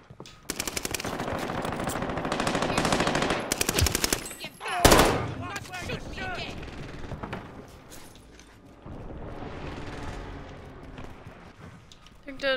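Automatic gunfire in the Call of Duty Warzone video game, dense bursts of rapid shots with a sharp loud blast near the middle, mixed with game voice callouts and effects.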